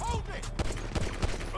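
Gunfire in GTA 5 during a police chase on foot: several sharp shots spaced about a third of a second apart ring out over a steady background of game ambience and music.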